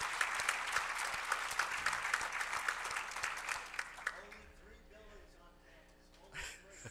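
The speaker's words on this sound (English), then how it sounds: "Let's give him another round of applause." An audience at a school business and technology event gives a graduate a short round of applause, scattered claps that fade out after about four seconds, followed by quiet room noise and a voice.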